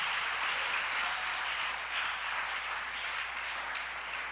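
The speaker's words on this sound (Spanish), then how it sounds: "Démosle un aplauso al Señor esta mañana" A church congregation applauding, a soft continuous patter of many hands clapping at a distance, steady for several seconds with no voices over it.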